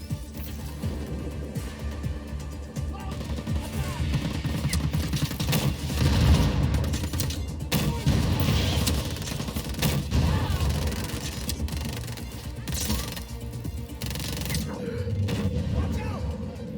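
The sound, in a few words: assault rifle gunfire in video game Just Cause 4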